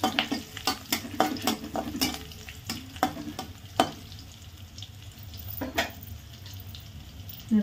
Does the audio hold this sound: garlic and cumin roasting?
yes